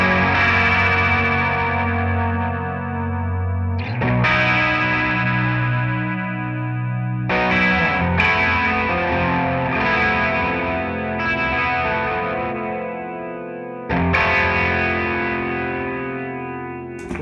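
A 1978 Ibanez Iceman electric guitar played through a 1976 Roland DC-50 digital chorus, sustained distorted chords swelling with a wobbling chorus modulation, loud and continuous, with fresh chord attacks roughly every four seconds.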